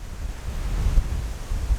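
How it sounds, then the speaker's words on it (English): Gusty wind buffets the microphone in woodland with a low, rumbling roar that rises and falls in uneven bursts. "it's a bit windy"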